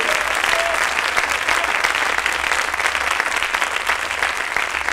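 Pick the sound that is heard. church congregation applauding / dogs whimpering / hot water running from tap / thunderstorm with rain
church congregation applauding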